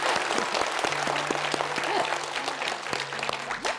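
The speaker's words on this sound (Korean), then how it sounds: "예, 박수." An audience breaks into sustained applause at a live Buddhist monk's Q&A talk, a dense, even clapping that carries on throughout.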